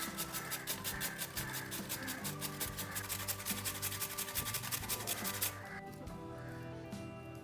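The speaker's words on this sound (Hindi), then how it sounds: "मैंने गाजरा ली है, इसे कद्दूकस कर लेंगे।" Carrots are grated by hand on a grater for paratha, with quick, regular rasping strokes repeating close by for about five seconds before the scraping stops.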